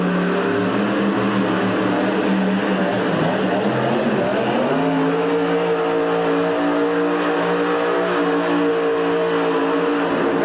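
The Bad Intention monster truck, a roughly 1,800-horsepower machine at a 1989 USHRA event in Hartford, roars loud and continuous, its engine pitch dipping and then climbing into a sustained high rev.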